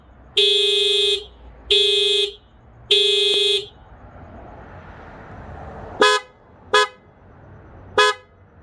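Honda Clarity stock horn, a thin high-pitched "meep" tone, honking three sustained blasts followed by three short sharp toots, loud and close with no talking.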